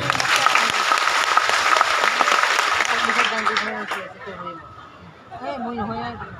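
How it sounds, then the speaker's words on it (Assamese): Loud crowd applause for Jyotish Rabha at a public gathering, dense steady clapping for about four seconds before it thins out and a voice begins speaking over scattered chatter. "তেখেতৰ কাৰণে এটা জোৰদাৰ হাত চাপৰি হ'ব লাগে"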